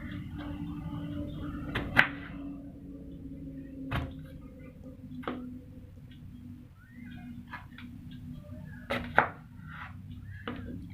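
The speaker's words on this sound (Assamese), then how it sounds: "এতিয়া মই ঠাৰিটো গুছাই মিহি মিহিকে কাটি লম" A kitchen knife chops brinjal (eggplant) for pickle, giving a few sparse, quiet thunks against a board, spaced seconds apart with near silence between them.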